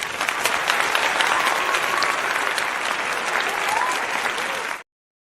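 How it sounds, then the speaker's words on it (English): A round of applause from a group fills the space with loud, even clapping that runs steadily and then cuts off abruptly into silence. "Y'all get a round of applause off the top too."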